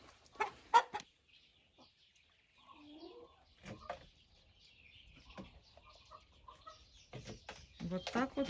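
Hens cluck and murmur at a mechanical hopper feeder in a poultry enclosure, scattered soft calls and sharper squawks near and far, with occasional clattering and bumps, over a quiet background.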